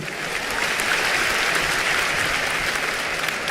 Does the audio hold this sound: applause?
yes